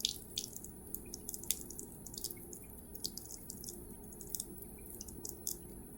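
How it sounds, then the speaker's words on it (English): Water runs and drips through laboratory glassware being rinsed during a titration lab, with a steady trickle and scattered sharp droplet splashes and clinks throughout, fairly quiet and without speech. "fill it with the water and then let it run through"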